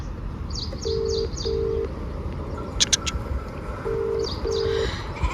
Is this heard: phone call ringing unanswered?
yes